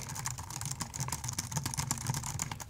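Fast, steady typing on a Logitech Signature Slim K950 keyboard, with close, dense clicking keystrokes and no talk.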